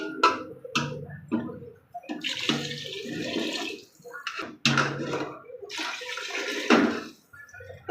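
Water is poured into a cooking pot of kootanchoru, a mixed rice dish, giving uneven rushing, splashing bursts with short pauses across the whole stretch.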